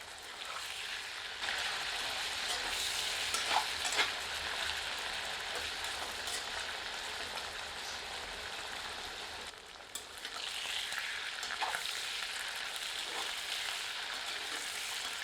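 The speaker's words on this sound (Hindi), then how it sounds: "चिकन फ्राई हो चुका है।" Chicken sizzles and crackles steadily in a hot pan, with occasional stirring clinks and a brief dip partway through.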